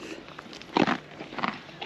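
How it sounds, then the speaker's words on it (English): A horse chews a carrot at a caravan park in Australia, giving a few soft, close crunching bites in a short burst with quieter chewing before and after. "You're just chewing your carrot, huh?"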